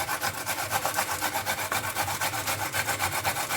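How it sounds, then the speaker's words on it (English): A carrot grated by hand, a close, rhythmic rasping scrape repeating quickly and evenly, several strokes per second, with no talk. "We're going to grate the carrots."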